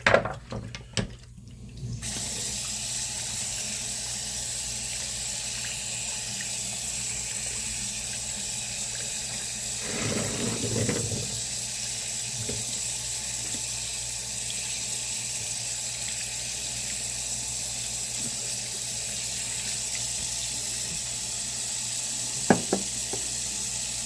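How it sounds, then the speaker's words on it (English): Sharpening stones being washed under a running tap, a steady close stream of water with a few brief knocks and clatters as the stones are handled. "Doesn't hurt to wash your stones."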